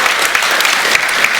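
A church congregation claps in a dense, even burst of applause that fills the room loudly and continuously from start to finish.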